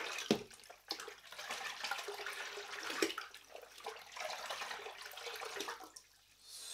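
Salt brine for smoking trout is poured into a container of water, giving a splashing, gurgling pour that swells and eases over several seconds, close and moderately loud with no talk.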